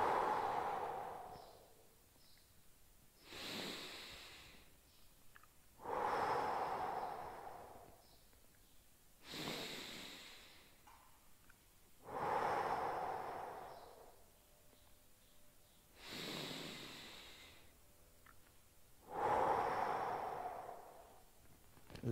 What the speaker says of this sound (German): Jetzt mal eher im Brustkorb atmen.